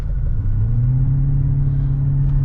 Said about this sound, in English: pulleys are still a little noisy. There's like some sort of like rattly noise